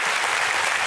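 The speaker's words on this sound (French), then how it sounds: "on va les applaudir très fort" A studio audience on a French television talk show breaks into loud, dense applause, a brief close burst of many hands clapping together.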